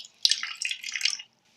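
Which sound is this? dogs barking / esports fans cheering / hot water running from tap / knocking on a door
hot water running from tap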